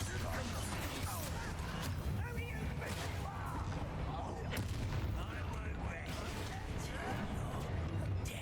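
A Bombarda blasting spell in Hogwarts Legacy erupts amid dense, continuous combat noise, with booming, crackling explosions and clattering impacts layered over game music and voices.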